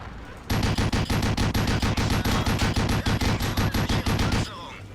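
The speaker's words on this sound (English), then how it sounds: "That's looked like a shot from our guys." Rapid burst of heavy automatic gunfire in a tank battle video game, a steady rattling string of loud shots lasting about four seconds before cutting off.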